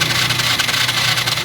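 Motorcycle engine cranking over without catching, the bike suffering a fuel injector problem with no fuel spraying, a steady rough mechanical churning that runs continuously and fairly loud throughout.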